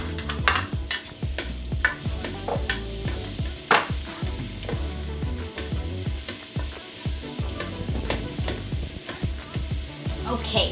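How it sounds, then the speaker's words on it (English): Onions sauté in olive oil in a hot pot for a lentil vegetable stew, with repeated utensil scrapes and clacks over a soft sizzle in a busy, close stirring rhythm. "so you want to saute your onions until it's translucent"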